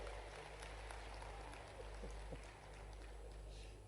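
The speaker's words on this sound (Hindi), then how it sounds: "जरा ताली बजाओ तो दिल से बजाओ" Audience applause at the Global Investment Summit 2025 in Bhopal, a soft, continuous patter of clapping heard from a distance under a low hum, steady throughout without distinct individual claps.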